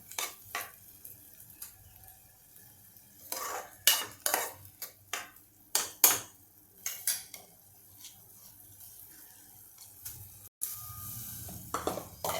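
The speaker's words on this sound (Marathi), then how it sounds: "हे सगळं मी परतून घेते कोरडं होईस्तोवर" Bottle gourd kofta mixture sautéed in a pan, heard as a series of sharp utensil scrapes and clinks against the metal, irregular and close, with a soft sizzle beneath and a louder stretch near the end.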